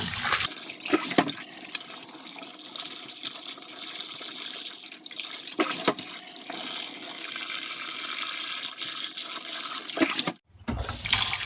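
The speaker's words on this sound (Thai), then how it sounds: "ใส่กระมังล้างน้ำให้น้ำ ให้น้ำเป็นใสๆเลยนะคะ ล้างเอาเลือดออกให้หมดค่ะ" Fresh mackerel is rinsed in a basin of water to wash out the blood while preparing salted fish. A steady rush of running water carries splashes and sloshing, then cuts briefly near the end before resuming.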